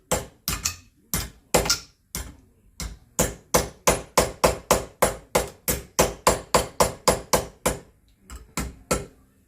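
Aluminium sheet hammered around a form block to bend a bulkhead flange. Sharp metallic blows land close and loud in quick irregular bursts, some in fast rhythmic runs, with short pauses between groups.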